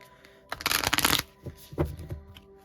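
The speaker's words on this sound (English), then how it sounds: "I'm only going to shuffle once." A quick burst of tarot cards being shuffled, a crisp riffling flutter lasting under a second, followed by a few soft taps as the deck settles.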